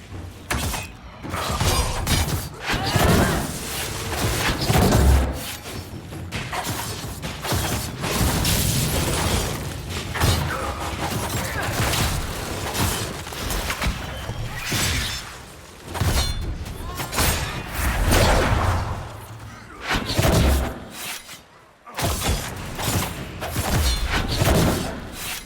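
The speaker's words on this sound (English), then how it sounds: "love them shatter combos, baby" Shatter combo attacks in Dragon Age Inquisition, loud crashing, cracking bursts and thuds layered over continuous busy combat noise, recurring throughout the fight.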